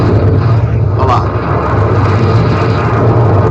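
A passenger airplane's engine drones steadily and loudly throughout, a constant low roar with a faint voice briefly audible partway through.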